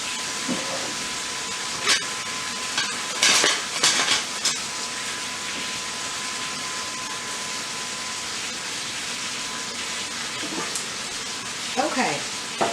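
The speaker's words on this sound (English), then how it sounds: "as my chops are done, coated real good, nice and seared, I'm going to flip them over" Seasoned pork chops sear in a hot pan with a constant, dense hiss and sizzle, loud and close, broken by a few sharper crackles and light clatters of utensils against the pan.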